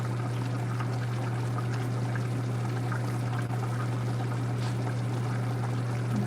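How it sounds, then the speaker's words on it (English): A pot of chili simmers with a continuous soft bubbling and liquid burble over a steady low hum. "You see the sound of the chili just bubbling away"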